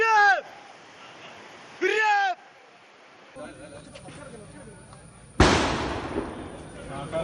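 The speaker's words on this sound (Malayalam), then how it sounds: "ആനകളെ പടക്കം പൊട്ടിച്ചും മറ്റും തുരത്താൻ വനംവകുപ്പ് ശ്രമിച്ചു" Firecrackers set off by forest officials to drive wild elephants back toward the Mullaringad forest area in Kerala: one sudden loud bang with a noisy, decaying tail after quieter stretches with background sounds.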